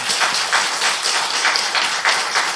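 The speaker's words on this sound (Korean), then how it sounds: "우리 환영의 박수 한번 할까요?" A church congregation gives a short burst of welcoming applause during a Sunday morning service, steady and fairly loud hand clapping from many people lasting a couple of seconds with no talking over it.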